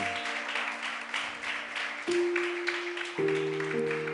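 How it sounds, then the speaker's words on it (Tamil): A church congregation at a ministry sermon gives a steady wash of applause for farmers, with sustained keyboard chords that change pitch twice sounding beneath it. "களத்தில் இறங்கி வேலை செய்யும் ஒவ்வொரு விவசாயிகளுக்கும் நல்ல ஒரு கைத்தட்டு கொடுங்க."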